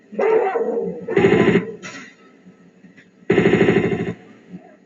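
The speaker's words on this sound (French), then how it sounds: "Puis là, il y a un chien." A dog in the video game Tomb Raider 2 barks in three loud, close bursts of rapid yaps, with short pauses between them.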